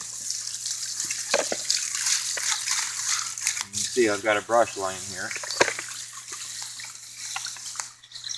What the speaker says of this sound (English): So now we'll rinse out the water dish.